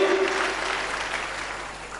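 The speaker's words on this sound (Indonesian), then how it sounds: "tepuk tangan lebih meriah lagi" A church congregation breaks into applause, a dense wash of many hands clapping at once, steady and fairly loud in a reverberant hall, with a brief voice or tone at the start.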